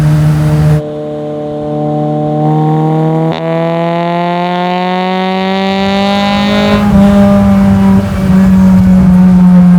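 Honda Type R VTEC engine fitted in a classic Mini, revving hard in a sustained climb, then dropping and pulling again. The engine note is loud and close from inside the car, with no talk over it.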